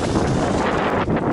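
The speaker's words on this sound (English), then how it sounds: "It's all dark, windy." Steady outdoor wind buffeting the microphone on a darkening evening, a dense continuous rushing roar that stays loud and even throughout, with no voices.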